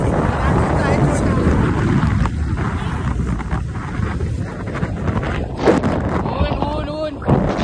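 Monsoon wind blows at Tamhini Ghat, buffeting the microphone with a loud, continuous low rumble while people talk throughout.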